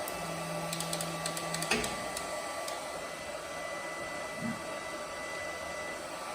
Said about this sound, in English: I got one good weld out of it, but it just won't stay on.